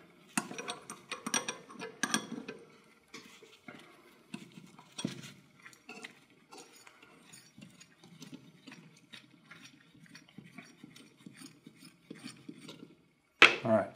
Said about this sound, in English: we're going to back this bolt out and take as much of that spring tension off as we can